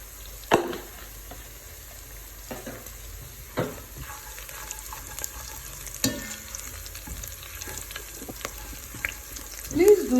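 Garlic gently frying in a pan on low heat, a soft steady sizzle with occasional scrapes and clicks of stirring, fairly quiet and close, with brief talking near the end.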